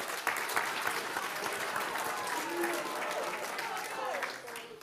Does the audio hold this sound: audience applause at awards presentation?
yes